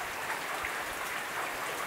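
Heavy rain falling in Macaíba, a constant soft hiss of drops on surfaces, steady and fairly faint throughout with no talking.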